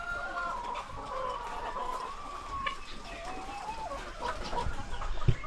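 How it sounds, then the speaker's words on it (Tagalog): Chickens on a Philippine farm cluck and murmur steadily at close range, many birds overlapping in a busy, continuous flock chatter with occasional louder calls. "mga manok nila."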